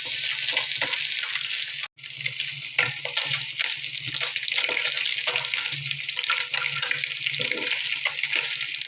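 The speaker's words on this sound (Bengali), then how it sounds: "এইভাবে মাছগুলো সব মাছগুলো উল্টে দেবো। এগুলো ভাজা হয়ে গেছে" Fish frying in a pan of hot oil, a constant crackling sizzle with one brief break as the pieces are turned, close and loud with no speech.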